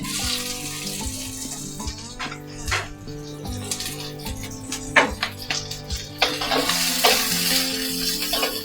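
Onions sizzle and crackle steadily in about half a cup of mustard oil for a Bangladeshi fish and kalai dal dish, with scattered sharp clicks and scraping stirs rising above the continuous close frying hiss.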